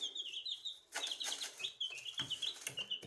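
Chickens kept in a tub inside a garage cluck and peep in quick, irregular bursts, quite faint and close, with scuffling and wing flaps between calls.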